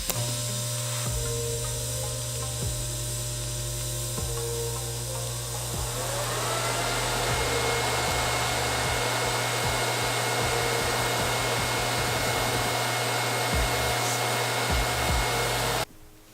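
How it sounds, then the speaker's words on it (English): Steady hissing buzz of welding on a stainless turbo manifold for an LS engine, a continuous close drone with faint crackle running unbroken for about fifteen seconds before cutting off. "Back to welding!"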